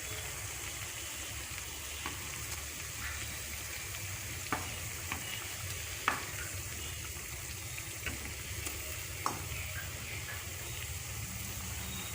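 Egg and semolina malpua batter frying in hot oil in a pan, a steady close sizzle running throughout with a few faint clicks and stirring taps.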